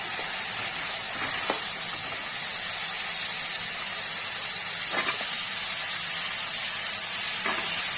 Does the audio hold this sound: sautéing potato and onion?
yes